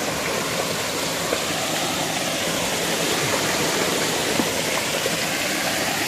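Spring water pouring down from above near a large cave at Thonippara in Idukki, a steady, loud, close broadband rush of falling water that continues without a break throughout.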